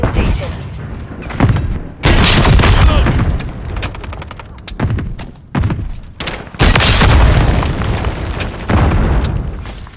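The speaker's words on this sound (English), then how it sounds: "Flash grenade." Flash grenade going off in Call of Duty amid a firefight, with sharp loud booms and bursts of gunfire cracking in clusters, interleaved with quieter gaps and voice chatter.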